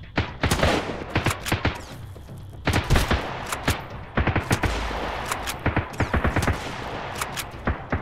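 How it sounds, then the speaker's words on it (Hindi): Shotgun blasts and other gunfire in the survival video game Sunken Land during a gas station island raid, with rapid, loud, sharp shots coming in dense bursts with short pauses between them, and no talking. "इतने दूर से भाई शॉर्टगन चला रहा है"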